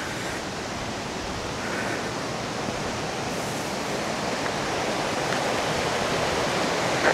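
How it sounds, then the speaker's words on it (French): Water pouring over small dams along a stream, a loud, steady broadband rush that continues without a break and with no voices. "Vous entendez l'eau."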